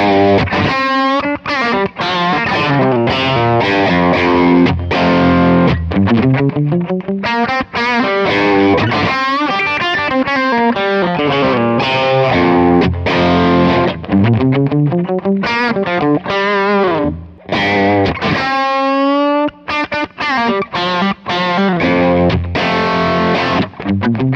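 An electric guitar plays through a Kemper AC20 amp profile, producing a continuous driven, distorted tone with busy riffing, bends and sustained notes, loud and close with no voices.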